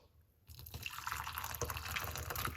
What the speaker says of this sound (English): We're just gonna just pour it out